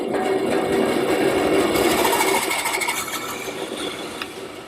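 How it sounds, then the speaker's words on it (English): Power saw cutting a wooden garden gate board in a woodworking shop, a steady motor whine with buzzing cutting noise that tapers off toward the end. "I'm cutting through my board"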